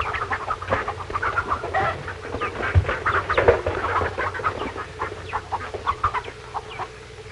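Chickens clucking inside a chicken house on a farm in a 1946 film, a busy run of repeated clucks and squawks at close range, rising and falling in loudness, with no talk.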